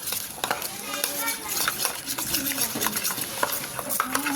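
Rice flour mixture being stirred, a busy run of scraping and clinking strokes close by, with a voice and other voices in the background.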